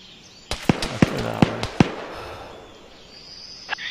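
Gunshots in Arma 3, five sharp, loud reports at irregular intervals echoing across open ground, followed by a quieter tail and a single later shot.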